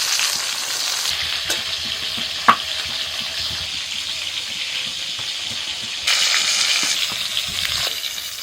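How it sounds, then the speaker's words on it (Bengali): Pointed gourd (potol) slices coated in salt and turmeric fry in hot oil, giving a steady, close sizzle with a sharp clink partway through and the crackling swelling louder near the end. "এবার পটলটা ভেজে নিচ্ছি"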